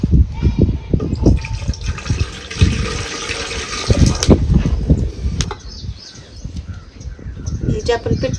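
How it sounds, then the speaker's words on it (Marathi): Water is poured into a pot set on a wood-fired stove for steaming dhokla, a close, loud gushing splash with irregular pulses that later thins out. "ह्याच्यात आता आपल्याला घालायचे पाणी."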